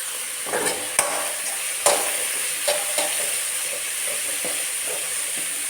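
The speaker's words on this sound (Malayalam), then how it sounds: "ഒന്ന് നന്നായിട്ടൊന്ന് വഴറ്റിയെടുക്കാം." Chicken curry sautéing in a pan, a steady sizzle with occasional scraping and clinks of a spoon stirring, fairly close and uninterrupted by talk.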